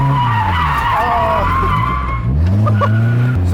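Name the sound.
car drifting after a clutch kick, tires skidding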